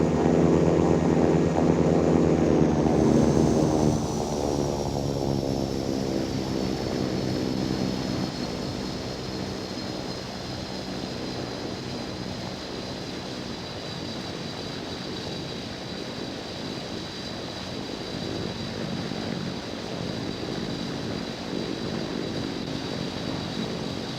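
A heavy C-130 "Fat Albert" transport taking off from runway 26 at Albuquerque in the Infinite Flight game, with a loud, steady propeller and engine roar that fades slightly after the first few seconds and holds constant, alone without talk.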